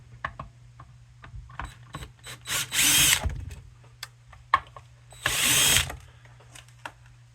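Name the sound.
removing screws from a power inverter casing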